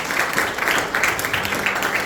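A church congregation applauds together, a dense patter of many hands that rises and falls in small bursts for a couple of seconds.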